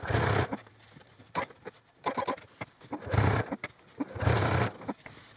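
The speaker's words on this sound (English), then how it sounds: "so I can top stitch them in place" A sewing machine top stitching through layers of fleece for a hat, running in several short bursts of fast whirring needle chatter with brief pauses between them, close and steady.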